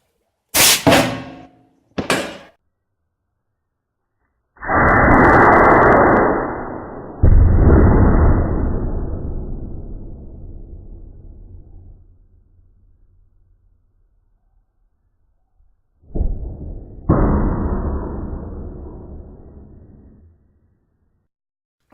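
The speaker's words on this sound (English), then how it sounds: "we are going to see what kind of energy we can get out of this gun with this bullet" Air cannon charged to about 90 psi fires a brittle 211 gram bismuth projectile, giving two sharp pops, then a long loud blast that decays into a rumble, and another burst near the end, with no talk.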